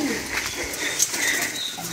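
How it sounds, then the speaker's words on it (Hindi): Pet pigeons coo softly among other birds in an aviary, with faint chirps and some wing flutters over a steady background hiss, no one speaking. "सनान भाई ने हमारे पिजन्स खोल दिए"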